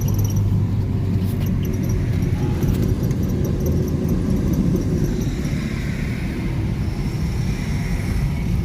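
Dense, slow-moving road traffic jammed on Canal Road after an accident, heard as a continuous loud rumble of engines and tyres. Occasional higher squeals or rattles drift through.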